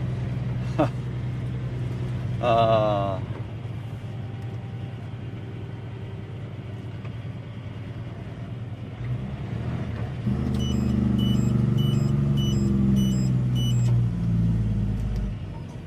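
A big truck rumbles through stop-start city traffic in Perth, heard from inside a cab as a low engine drone that swells louder toward the end, with a brief beeping tone over it.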